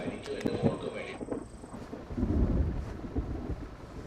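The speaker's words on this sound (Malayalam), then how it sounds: "പുറത്ത് ഇടിയും മിന്നലും കണ്ടില്ലേ?" Thunder from a storm outside rolls in low, moderately faint rumbles, heard from indoors with rain and some background noise.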